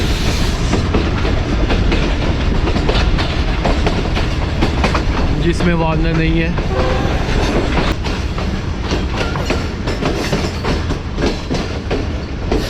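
The Mianwali Express rolls along the rails on a Lahore to Mianwali run with loud, continuous rumble and rhythmic clickety-clack, a brief squealing wheel whine partway through, and someone speaking briefly under the noise.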